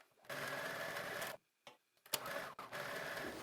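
A sewing machine stitches sleeve seams at a 3/8 inch seam allowance in two bursts of fast, even whirring, split by a pause with small clicks and handling noises, fairly quiet overall.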